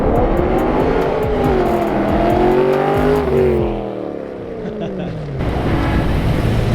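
A BMW 1M converted to an S65 V8 drives past loud and close, its engine rising through the revs in strong sweeping pulls, easing off briefly, then surging again.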